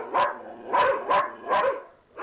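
Crossbreed dogs bark at the Dogs Trust rescue kennel near Darlington: five loud, close barks come in an uneven rhythm, ringing slightly off the kennel walls.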